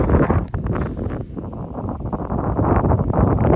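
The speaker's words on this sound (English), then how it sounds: "I know it's a bit windy, you might not be able to hear as well" Strong wind buffets the microphone on an open mountainside in the English Lake District near Helvellyn, a loud continuous low roar with gusty swells and no speech over it.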